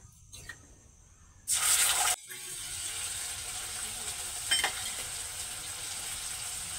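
Cumin and coriander paste hits hot oil with a sudden loud sizzling burst. It settles into a steady frying hiss for the rest of the time, broken by a short spatter midway, with no one talking.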